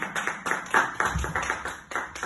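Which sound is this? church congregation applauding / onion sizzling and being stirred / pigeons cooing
church congregation applauding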